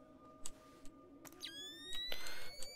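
Electronic alarm tones sounding in the stealth video game Splinter Cell Chaos Theory: a steady high tone with rising sweeping beeps and short bursts, fairly faint, with no talking over it.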